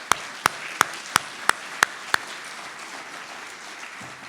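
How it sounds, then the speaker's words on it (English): An audience claps after speakers at a responsible tourism forum, with a few sharp, evenly spaced claps standing out early above a low room hum before fading. "Please join me in another round of applause."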